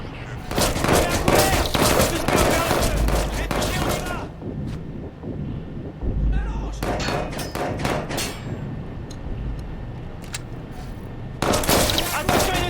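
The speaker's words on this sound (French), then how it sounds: "Attention, il nous tire dessus!" Bursts of gunfire in the video game Watch Dogs 2 come as loud rapid volleys and heavy thuds, with an intense stretch early, a quieter gap, then scattered shots and another burst at the end, alongside voices.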